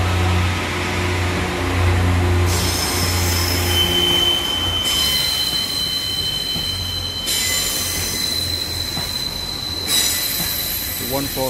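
A Class 143 Pacer train on the Valley Lines, heading for Treherbert, rolls past close by. Its wheels give a loud, sustained metallic squeal that shifts pitch in stages over a steady rumble of the railcars.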